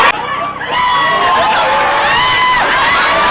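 An enthusiastic crowd at a football match between a visiting national team and a regional team cheers loudly, with sustained roaring and high whoops and shouts rising over it.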